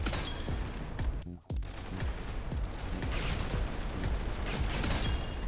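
Video game gunfire from an unusual weapon: dense, rapid bursts of shots and booms in a loud, cluttered battle mix, briefly cut off and then resuming without letup.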